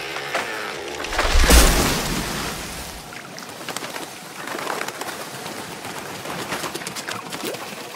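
Birds cooing softly in the open, with a brief rushing swell early on and faint calls scattered over quiet outdoor ambience.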